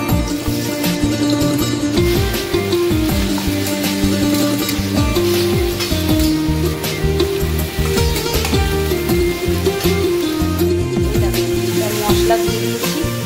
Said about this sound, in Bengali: পেঁয়াজের মধ্যে দিয়ে আলুটা ভাজা হয়ে গেছে বেশ ভালো করে